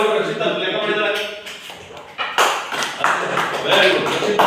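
A school class clapping loudly for a pupil who solved a maths problem: a burst of many hands applauding together, close and busy, following a stretch of quieter tapping.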